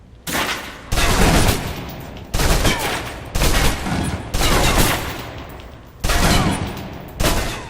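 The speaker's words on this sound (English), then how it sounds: "Now, let's move on to the submachine gun. Now let's empty the clip." Submachine gun fired until empty in the Alpha Protocol video game, a series of loud sustained bursts of rapid automatic fire separated by short pauses, with no talking.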